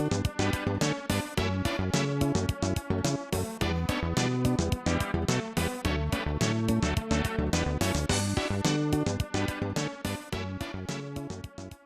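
Final Fantasy soundtrack piece for the Fire City area plays as continuous, dense video game music with a steady pulsing rhythm, layered melodic lines and bass, loud throughout with no talking.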